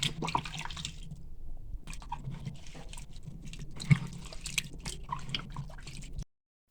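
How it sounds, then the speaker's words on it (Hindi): Cut potatoes being washed by hand in a bowl of water to rinse off starch in a home kitchen, continuous sloshing and splashing at close range that stops abruptly at the end. "हम इनको वॉश कर लेंगे अच्छी तरह।"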